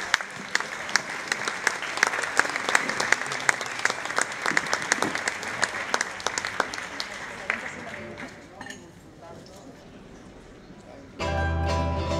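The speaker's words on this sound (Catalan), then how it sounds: "un fort aplaudiment per al grup de danses Trapits" A festival crowd at the international dance festival in Beniarjó applauds a dance group with dense, sustained clapping that fades around the eighth second, before music starts loudly near the end.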